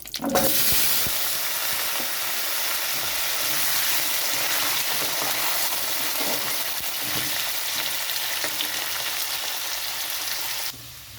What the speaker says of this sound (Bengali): ওই তেলের মধ্যে দিয়ে দিচ্ছি গোটা জিরে, তেজপাতা, এখানে দিয়ে দিচ্ছি কেটে রাখা আলু,